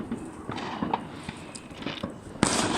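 Fireworks and firecrackers explode at a New Year celebration outdoors at night, a string of sharp cracks and pops of varying loudness with a bigger burst near the end, over steady background noise.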